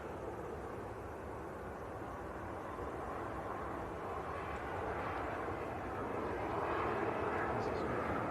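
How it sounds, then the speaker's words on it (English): A TUI Boeing 787-9 Dreamliner landing at Manchester Airport gives a distant, steady jet rumble that slowly grows louder, while someone talks over it. "another heavy coming in, a TUI Dreamliner this time"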